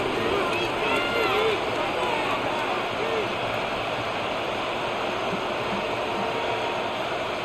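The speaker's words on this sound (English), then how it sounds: "Well, this crowd making it hard to hear." Loud, constant roar of a stadium crowd in the Madden 26 football video game during a tense late-game moment, with a dense babble filling the background.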